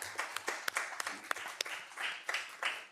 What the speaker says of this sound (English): just round of applause to them